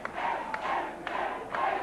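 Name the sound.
wrestling crowd yelling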